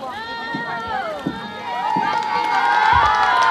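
Spectators cheer at the Yap Canoe Festival as paddlers race in blue, red and yellow canoes, a lively crowd roar rising steadily beneath a loud announcer's voice.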